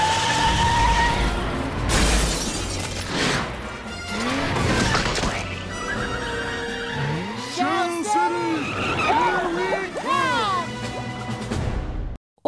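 A cartoon vehicle shaped like a sandwich drives and skids, with revving, tire squeals and clattering bumps mixed with animated character voices talking over it.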